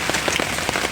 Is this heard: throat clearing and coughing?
no